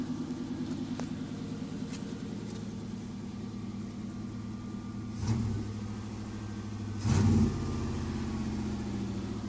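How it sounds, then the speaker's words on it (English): A 1988 Chevy truck at a Kenny U Pull junkyard, with 320,000 km on it and a sticky exhaust, idles with a steady, throbbing rumble. Twice it rises into short, loud revs before settling back to idle. "See what happens when you rev it."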